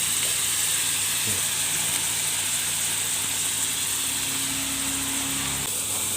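Minced pork stir-frying in a pan as chili powder goes in, a steady close sizzle and hiss throughout with faint scraping, ending in a brief louder clatter.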